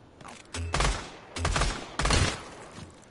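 Gunfire in the VR shooter Pavlov VR2 comes as several loud bursts of rapid shots with short gaps between them, close and sharp, with faint voices in the background.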